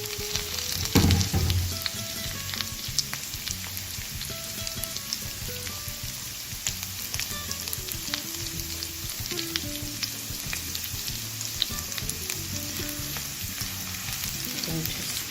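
Chopped green chillies frying in a pan for pilau chutney, a steady loud sizzle with dense crackling pops throughout and a brief heavier burst early as they hit the oil.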